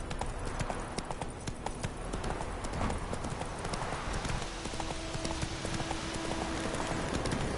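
Horse galloping in The Witcher 3 video game, rapid rhythmic hoofbeats pounding continuously over a busy, noisy game soundscape.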